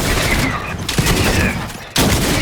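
Gunfire in a Fortnite duos match crackles in three loud, close bursts, each a sharp blast with a short ringing tail, separated by brief pauses of quieter game ambience.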